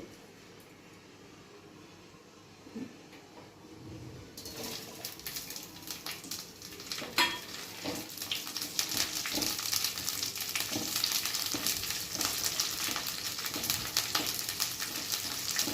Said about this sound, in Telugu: ఇది కొంచెం వేడయ్యాక పండుమిరపకాయలు వేసుకొని మనం కొంచెం దూరగా వేయించుకోవాలి